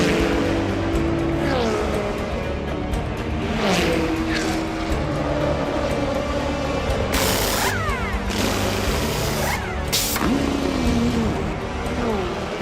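Toyota hypercars racing in an endurance race, engines rising and falling in pitch as they pass, with repeated sweeping passes and mechanical whine over a steady loud roar.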